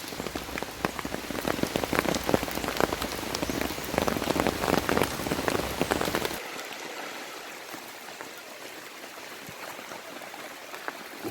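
Heavy rain falls on a campsite in a dense, constant patter of drops, loud at first and then softer and more distant after a sudden change partway through.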